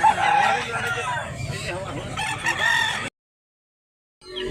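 A loud, close rooster crow rings out for about three seconds, then drops to silence before other sounds return.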